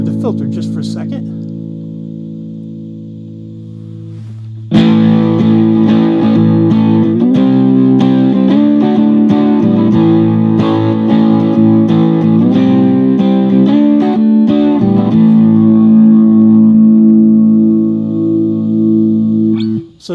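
Electric guitar played through a JHS Pack Rat distortion pedal with its filter being adjusted, a few soft notes then a loud, sustained distorted riff with shifting tone, steady and close.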